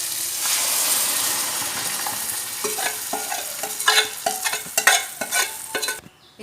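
Masala of tomato, green chilli, ginger and spices frying in oil, stirred in a pan: a broad sizzle at first, then a run of close, irregular scraping and clinking strokes of the spoon before it cuts off.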